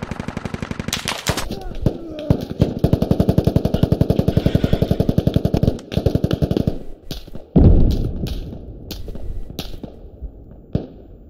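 Automatic rifle fire in the Squad video game: long rapid bursts of close, loud shots, then scattered single cracks and a heavy blast, with other distant shots around them.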